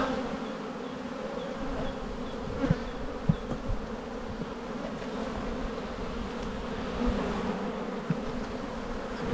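Honey bees buzz steadily around an open hive during a hive inspection, a dense continuous insect drone with a few sharper knocks and bumps close by.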